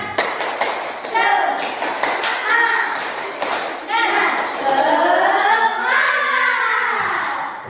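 A classroom of students does rhythmic patterned clapping, sharp hand claps in quick sequences mixed with children's voices chanting along, close and lively throughout.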